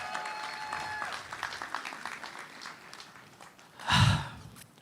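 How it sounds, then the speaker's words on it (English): Audience applause for the graduating class of 2026 at a university commencement ceremony, a steady wash of clapping that fades out, ending in a brief louder burst of noise near the close. "Give yourself a round of applause."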